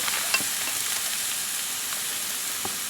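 Marinated London broil steaks sizzle steadily on a grill, a continuous frying hiss with faint crackles and pops, close and fairly loud, with no voices.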